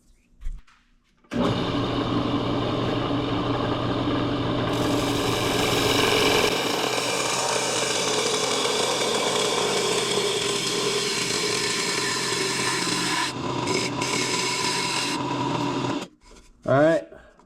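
A woodturning lathe flattens the bottom of a segmented wooden dish: a continuous scraping hum from the cutting tool on the spinning wood, steady and close, between short pauses and a few spoken words near the end.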